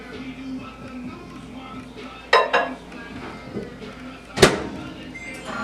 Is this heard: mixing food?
yes